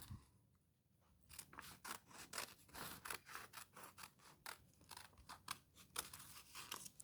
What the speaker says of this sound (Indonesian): Kemudian kita gunting.